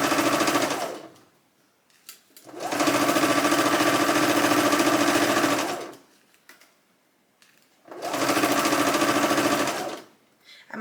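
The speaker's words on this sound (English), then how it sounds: "Hopefully you can hear me over the noise of the machine." A sewing machine stitches a Patina blouse in two long loud runs of rapid, steady needle chatter, separated by a quiet pause, close and clear with no talking over it.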